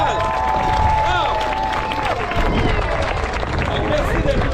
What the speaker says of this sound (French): On les applaudit, les pompiers de Laval!